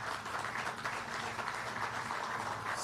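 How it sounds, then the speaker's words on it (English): Audience applause at a groundbreaking ceremony for the new Raritan River Bridge, a steady dense wash of clapping from a crowd that holds evenly for about three seconds. "They deserve a round of applause."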